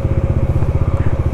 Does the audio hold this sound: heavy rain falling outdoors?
no